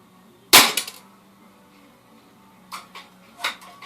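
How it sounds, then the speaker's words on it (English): A Crosman 2100 pump air rifle fires once with a sharp, loud crack, followed by a couple of softer clicks and clatters a few seconds later, with no talking. "Shot number 3 at the RWS."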